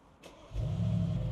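A Mercedes G63's engine catches after a short starter click, settling into a deep, steady idle rumble close by.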